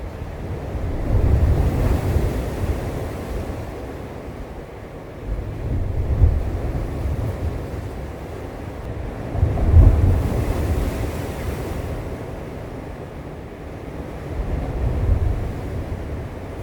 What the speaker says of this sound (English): could just hear the waves slamming the rocks